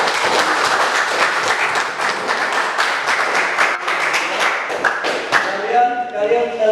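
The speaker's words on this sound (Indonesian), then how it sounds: "tepuk tangan untuk kalian semua" A classroom of students applauds their classmates, sharp individual claps crowding into a lively burst that thins out toward the end as voices begin to rise.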